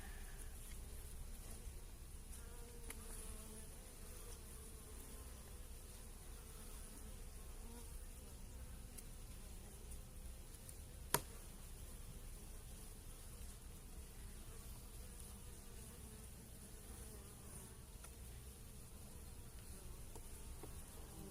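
A steady, dense drone of many honeybees buzzing close by in an open hive just out of winter, continuous and even throughout with one brief sharp click midway.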